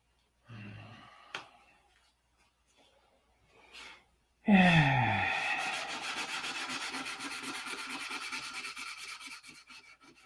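Sanding on a P-47 model: a few faint scrapes, then a loud, steady rasping rub that starts abruptly and carries on without a break, close to the ear.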